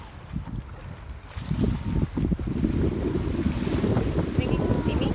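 Ocean surf rolls in as a broad, steady rush that swells after a quieter opening and stays loud, mixed with gusty wind buffeting the microphone.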